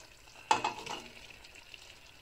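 Pre-fried cauliflower is dropped into a pot of potato curry and stirred, a sudden sizzling clatter that fades into soft frying and scraping, moderately loud and close.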